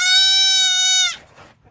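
A baby goat gives one loud, sustained bleat lasting about a second, close to the listener, followed by a short, faint trail of noise.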